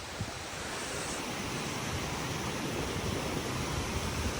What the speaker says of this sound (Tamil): அப்படியே தண்ணி ஓடுது எல்லா பக்கம்.